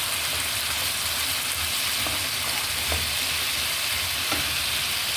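Chicken sautés in a pan with garlic, onion and ginger, giving a steady close sizzle and crackle with faint stirring scrapes, and nobody talks.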